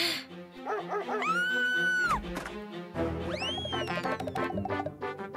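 A dog whines and whimpers in high, drawn-out cries with a few short yips, close and insistent over a soft musical background.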